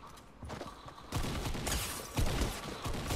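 Rapid gunfire crackles in a Fortnite match, a bursty run of shots with clattering mechanical snaps that grows louder in the second half, heard without talk over it.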